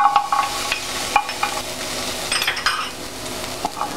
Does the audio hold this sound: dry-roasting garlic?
yes